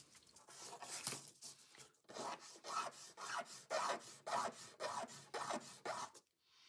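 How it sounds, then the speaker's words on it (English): Small hand files scraping resin-cast gearshift selector tiles for a 1941 Cadillac, a rapid run of short rasping strokes, close and soft, trailing off at the end; no voices. "I took some small files and started cleaning them up and filing them so they could fit."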